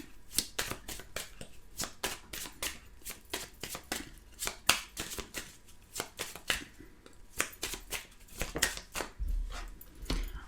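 Tarot cards shuffled by hand during a daily reading, crisp close riffling slaps and flicks in an irregular rhythm, fairly quiet with no talking.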